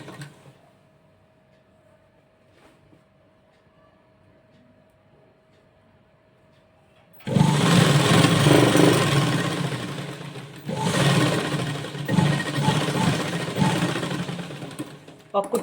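A sewing machine stitches a frock, starting at the waste edge of the cloth: a loud, continuous mechanical whirr that starts abruptly after quiet, pauses briefly, then resumes close by.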